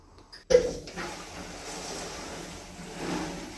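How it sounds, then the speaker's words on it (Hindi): Water begins flowing into a new LG washing machine on its first wash, a soft steady rushing hiss that starts after a brief click and continues at a low, even level. "इसमें पानी आना भी शायद शुरू हो गया"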